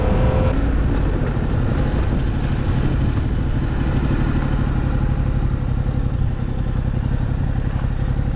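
A 2024 Yamaha MT-07 700 cc twin motorcycle runs while being ridden through town, its engine a steady loud drone mixed with wind buffeting, unbroken for the whole stretch.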